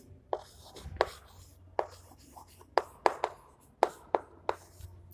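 Chalk or marker writing on a classroom board, heard as a series of sharp taps and short scratchy strokes in an uneven rhythm, close and fairly clear, with no voices.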